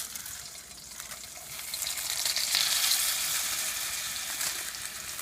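Pav bhaji masala frying in a pan of olive oil and butter, a loud continuous close sizzle that swells midway and then holds steady, with no voices.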